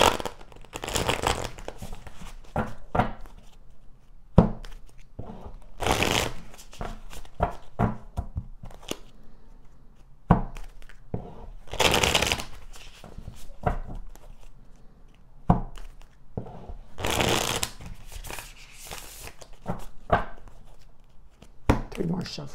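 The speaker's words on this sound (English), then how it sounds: "Three more shuffles." Tarot cards are shuffled in repeated bursts of soft riffling and slapping, close and fairly quiet, with a few short pauses between shuffles.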